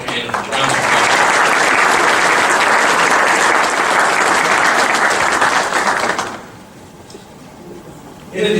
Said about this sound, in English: So if we could just have a quick hand of round of applause